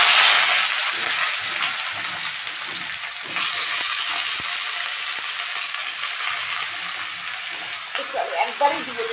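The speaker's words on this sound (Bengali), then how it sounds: "তো দেখো আমার মশলাটা ভাজা ভাজা হয়ে গেছে।" Dry red chilies, bay leaves and cumin frying in oil in a wok, a steady close hiss with occasional stirring clicks and a few soft, low sounds near the end.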